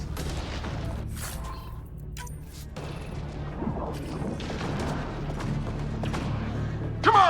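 Combat gunfire in the video game Mass Effect Andromeda, scattered shots and impacts mixed with booms and a crash, with voices talking over the action.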